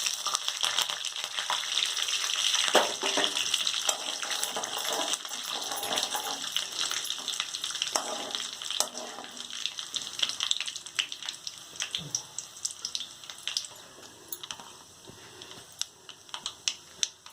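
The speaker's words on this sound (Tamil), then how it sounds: "கடுகு பொரியுதுங்க" Mustard seeds and vadagam spluttering in hot oil for a garlic gravy, a close crackling sizzle with rapid irregular pops that start dense and thin into sparser, sharper bursts as the seeds finish.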